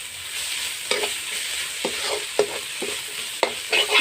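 Cumin, coriander and ajwain seeds frying in hot oil give a steady sizzle, with sharp stirring scrapes about every half second to second.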